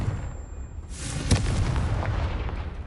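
In Hogwarts Legacy, the Confringo spell explodes with a loud deep boom and a sharp crack, followed by rumbling, crackling debris and low game ambience.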